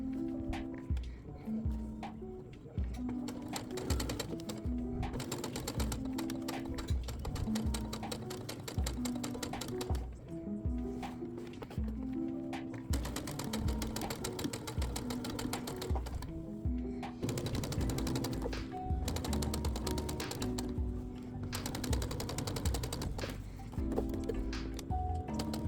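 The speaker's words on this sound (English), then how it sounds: "take it to your machine and make a top stitch at the very edge of the channels" A sewing machine runs top stitching along the edge of fabric channels on a ruched skirt: steady, rapid mechanical needle chatter that keeps going nearly without a break, close up, with faint rhythmic tapping throughout.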